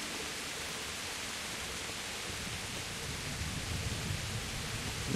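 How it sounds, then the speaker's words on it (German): Steady, even hiss of rain falling in Kingdom Come: Deliverance, a continuous wash of noise with no pauses, slightly swelling toward the end. "Aber es regnet einfach nur."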